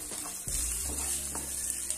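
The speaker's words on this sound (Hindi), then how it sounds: "और सौंफ डाल के अच्छे से मिला लेंगे और इन्हें अब हमें अच्छे से ड्राई रोस्ट करना है।" Black chickpeas with fennel seeds are dry roasted in a pan, giving a steady close sizzle with a few clinks of stirring throughout.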